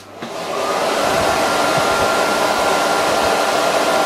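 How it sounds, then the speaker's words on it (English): An electric blower pushes a steady, loud rush of air toward a small wind turbine set six feet away in a Venturi wind-speed test, the broadband whoosh rising within the first half second and then holding constant without talk. "the blower is now 6 feet away"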